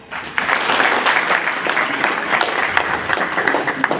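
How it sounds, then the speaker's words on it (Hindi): Loud applause from an audience at a business meeting, dense clapping that swells in quickly after a brief quiet start and then stays strong with a few sharper claps standing out. "जोरदार तालियां के साथ"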